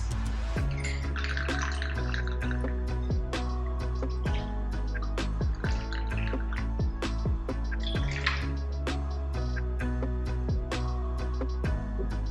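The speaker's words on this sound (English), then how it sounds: "Next, pour the vodka." Vodka poured from a bottle fitted with a pour spout into a glass of ice, a steady trickle broken by repeated sharp clinks and ticks of shifting ice cubes, close and fairly quiet.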